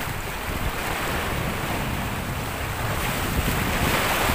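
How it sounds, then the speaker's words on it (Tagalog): Large ocean waves crash and roar steadily against a rocky shore at low tide along the Batangas coast, loud and continuous with heavy wind noise and no talking. "Grabe, laki ng alon."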